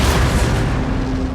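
Massed musket volleys from an army in the Napoleon Total War video game, heard as a dense, continuous rumble of overlapping gunfire and booms that stays loud throughout.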